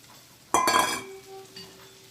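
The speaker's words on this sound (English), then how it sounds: "Now I'm going to add my greens. And you just plop them in there." Greens dropped into hot oil in a pan give a sudden loud burst of sizzling with a clatter, settling after a second into a quieter, steady hiss.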